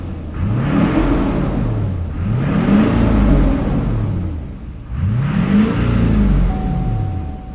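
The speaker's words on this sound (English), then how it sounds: "Duramax runs good." Duramax diesel in a 2006 GMC Sierra 2500 HD revving in three repeated swells, each climbing and falling, loud and close with a steady low rumble between.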